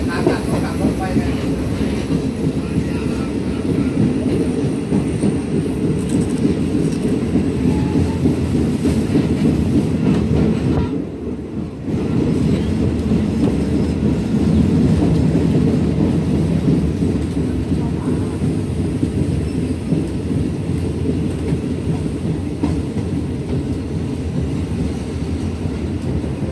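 A train rolls along the tracks near Lopburi railway station, a loud, sustained rumble with rhythmic clatter from the wheels and cars. The sound stays close and continuous, with a brief dip partway through.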